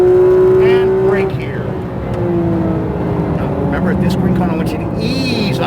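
A Porsche 911 GT3 RS engine on a race track revs and climbs through the gears under hard throttle, its loud rising howl heard from inside the car while an instructor talks over it.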